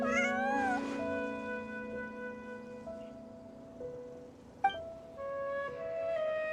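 A cat meows in the video game Genshin Impact, giving several clear, drawn-out, tonal meows in sequence with short pauses between them, close and prominent over a faint background.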